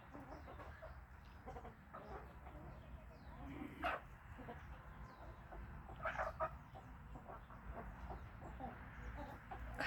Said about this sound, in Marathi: सकाळ सकाळी मस्तपैकी सगळ्या कोंबड्या खाया खाते त्या बघा